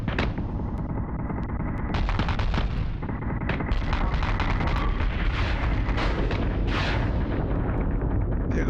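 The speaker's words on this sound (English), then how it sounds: "There go his missiles off to shoot the Kratos" Missile launches and dense booming fire from space combat in Battlestar Galactica Deadlock, with Manticore warships in battle; continuous loud rumbling barrage with repeated sharp bursts throughout.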